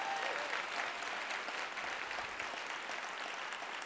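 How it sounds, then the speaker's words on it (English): An audience at a 2019 social-emotional learning education event applauds a speaker, a steady, fairly quiet and distant-sounding patter of many hands clapping throughout, with no voices on top. "Let's give Dr. Darling-Hammond a round of applause."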